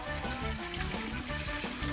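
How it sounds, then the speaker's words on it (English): Water poured from a container into a pot of pork, giving a continuous splashing, gurgling stream with a steady rhythmic pulse, close and fairly loud. "All right, Derek, take that water, and what we wanna do is just pour water in this until we're an inch or so"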